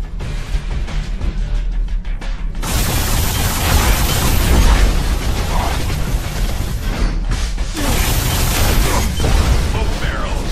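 Explosions in the video game Alien Rage, with a sudden loud blast followed by sustained rumbling booms and debris over several seconds, then another burst near the end; no talking.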